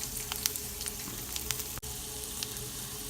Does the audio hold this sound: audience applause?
no